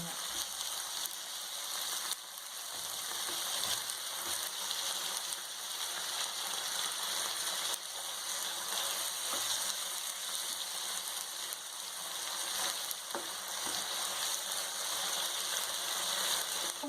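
Ingredients for mattar paneer sauté in a pan with a soft, steady hiss and sizzle, faint and even throughout, with a few light scrapes and no talking.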